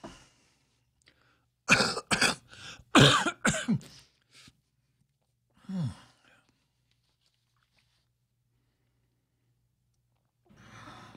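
Several sharp coughs and throat-clearing bursts from a man during a live political radio stream, clustered early then one more, with a brief breath and faint talk at the end.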